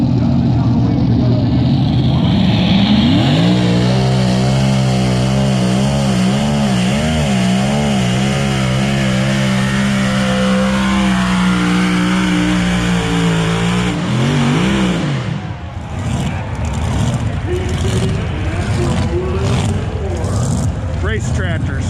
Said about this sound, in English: Race tractors.